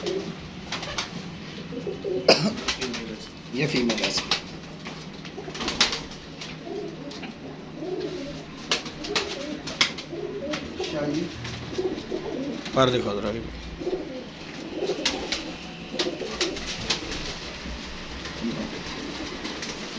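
Bānka pigeons coo softly throughout amid a busy, noisy background, with people talking over them and occasional rustling.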